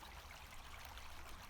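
The Pymmes Brook stream flows steadily and quietly, a soft continuous trickle and babble with no other sounds over it.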